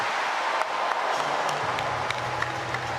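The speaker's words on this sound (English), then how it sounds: "Tobias Johnson claps him on in the background" A long jumper is urged on by a fellow athlete clapping in a London stadium at the World Para Athletics Championships. Steady crowd applause fills the space, with a few distinct claps standing out.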